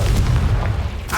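A Confringo spell blast in Hogwarts Legacy lands as a deep, booming explosion with a rumbling low end, loud and close, followed by a brief sharper burst near the end.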